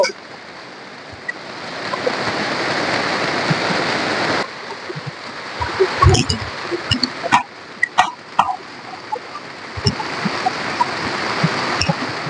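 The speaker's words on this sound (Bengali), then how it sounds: "কত জোরে জোরে বৃষ্টি হচ্ছে, দিন রাত সমান করে অনবরত বৃষ্টি লেগেই আছে" Heavy, continuous rain pours down outdoors in a steady hiss, with scattered louder knocks and splashes standing out in the second half.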